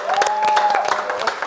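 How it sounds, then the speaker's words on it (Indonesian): Studio audience clapping for dangdut star Dewi Perssik at a comedy roast show, a brief steady burst of applause with a faint tonal whine running through it. "Boleh tepuk tangan?"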